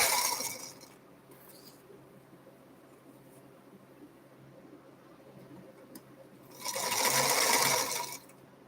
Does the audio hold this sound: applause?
no